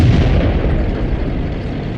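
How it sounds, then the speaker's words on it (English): In the tank combat game World of Tanks, artillery fire lands as a loud, heavy, rumbling blast that roars without a break for the whole moment. "Artillery has fire on me, so I need to get out of here"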